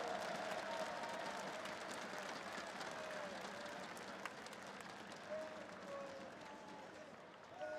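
Large arena crowd of Counter-Strike fans at the PGL Major 2022 applauding and cheering, a dense, continuous wash of clapping and voices heard from a distance with speech over it.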